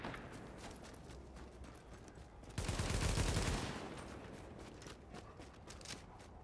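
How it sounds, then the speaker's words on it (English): Gunshots in Tom Clancy's The Division, fired at rats: a sustained run of rapid, close shots with a louder burst near the middle, no speech. "I'm not shooting people, I'm shooting rats."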